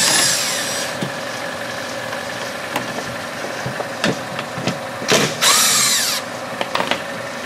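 A power tool works 10 millimeter bolts loose on a 2014 Buick Encore during a transmission flush, with bursts of whirring and ratcheting, metallic clanks and tool handling noises, near and fairly loud over a steady garage background.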